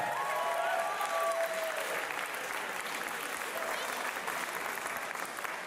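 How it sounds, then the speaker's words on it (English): A crowd at a pitch competition gives a sustained round of applause for the five finalists, dense clapping filling the room while a voice briefly speaks over the start. "Once again, an incredible round of applause."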